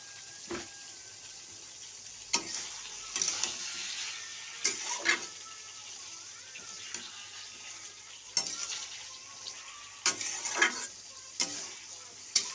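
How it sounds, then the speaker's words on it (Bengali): Mixed vegetable ghonto being stirred in a pan after sugar is added, with a gentle background sizzle and a series of close, sharp scraping and clanking strokes of a spatula spaced a second or two apart. "এবার মিষ্টি দেবো একটু দিয়ে একটু নেড়ে চেড়ে নেবো"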